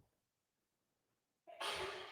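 A single sneeze bursts out abruptly after near silence during a quiet yoga relaxation, a sharp, close, loud expulsion with a breathy tail.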